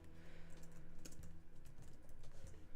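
Rapid, irregular clatter of computer keyboard keys being typed on, close and steady throughout with a few louder key strikes.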